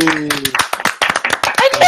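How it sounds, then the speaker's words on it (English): A small studio group claps on a podcast set, quick uneven bursts of close hand claps, while voices talk and laugh over them. "Can we get a big round of applause for everyone?"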